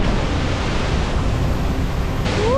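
Wapama Falls in Yosemite in May, a loud, steady, broadband roar of falling water and mist heard up close, continuous throughout with no talk.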